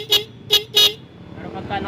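A vehicle horn toots three short times in quick succession, fairly close, followed by low road and engine background.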